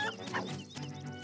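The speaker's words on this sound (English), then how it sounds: "I'm gonna hit this guy with the chicken." A cucco chicken in The Legend of Zelda: Link's Awakening clucks and squawks in short, rapid, pitched bursts after being struck, fairly quiet and heard alone.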